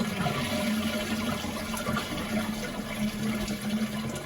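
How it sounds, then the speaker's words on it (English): A household toilet being flushed after a pan connector replacement, a steady loud rush of water with low gurgling running continuously throughout, no voices. "I flushed it quite a few times just to make sure."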